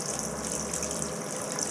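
Steady, forceful rush of water gushing continuously from a faucet on a half-inch copper water main, a loud broadband hiss with no pauses or voices.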